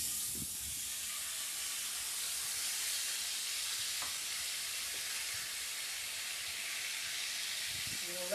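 Garlic, lemon juice and capers hit a hot pan for chicken piccata, giving a steady, moderately loud sizzle and hiss that lasts throughout, with a few faint clinks.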